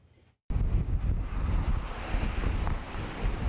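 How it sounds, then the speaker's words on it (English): Hurricane Katrina's winds and waves batter the coast in a loud, continuous roar of wind buffeting and surging surf, starting abruptly after a brief quiet moment and staying steady throughout. "As the winds and waves from Hurricane Katrina struck 20 years ago"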